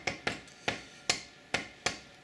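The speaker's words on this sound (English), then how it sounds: "I'm kind of required to have to tap them on there with a hammer like that" A hammer taps AR-15 high rail gas blocks onto a fixture plate in a machine shop, six sharp, close metallic knocks spaced at roughly even intervals, with no talking.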